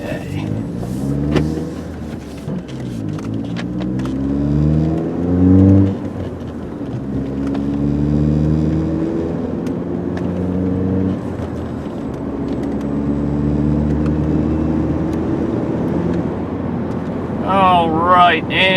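A 2003 VW Passat turbo five-speed sedan pulls away and accelerates through the gears from inside the cabin, its engine drone rising in pitch and dropping at each shift, with wind noise and a voice talking over it.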